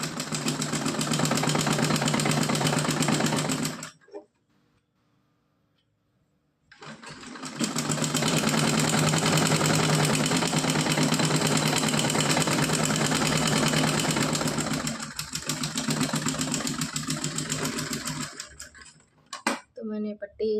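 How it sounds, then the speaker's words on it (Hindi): Electric sewing machine running steadily as it stitches a folded, doubled fabric strip for a small dress, with a loud continuous whirring motor that stops for a few seconds and then starts again. "यहाँ डबल करके इस तरह से सिलाई लगानी है।"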